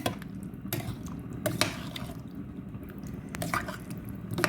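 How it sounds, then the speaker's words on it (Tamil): Wet squishing and scraping as chicken soup ingredients are stirred in a pot, with occasional clinks over a steady low background rumble. "இப்போ எல்லாத்தையும் கலந்து விடுவேன்"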